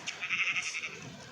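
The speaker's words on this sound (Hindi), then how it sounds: "कहाँ पर गई ये बकरी कुछ तो मिल जाए" A Minecraft goat bleats in a quavering, wavering cry lasting about a second, fairly loud and alone, with faint game background noise underneath.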